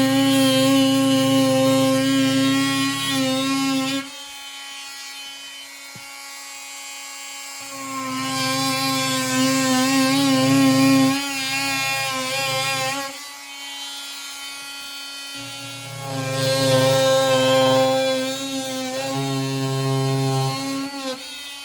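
Dremel multi-tool with a dull, fine-toothed drywall blade cutting drywall, three loud buzzing vibrating bursts of several seconds each, separated by pauses, close up.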